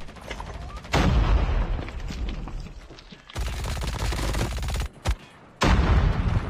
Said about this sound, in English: it is explosions that are actively going on